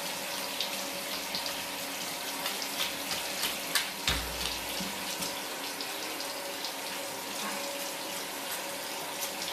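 A tap runs slowly into a bath for washing a dog, a steady close trickle and splash that carries on throughout without any voices.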